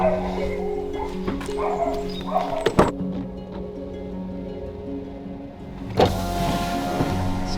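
A car passes on a rainy day in rural Madeira terrace country, its rising swell near the end following scattered dog yips and whimpers over a steady background hum.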